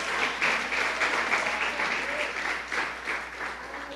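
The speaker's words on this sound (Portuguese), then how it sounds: "Uma grande salva de palmas ao Senhor." A church congregation claps loudly and continuously in a large room, the applause holding steady with slight swells and dips.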